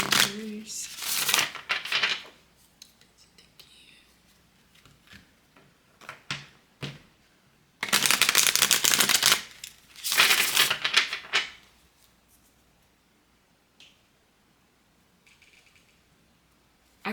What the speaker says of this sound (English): I can never remember if I shuffle these 3 times or not.